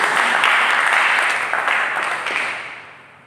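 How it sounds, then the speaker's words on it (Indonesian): Applause from a church congregation during a worship service, a dense wash of clapping that holds steady and then tapers off over a few seconds, loud and close with no talk. "Mari kita berikan tepuk tangan bagi Yesus."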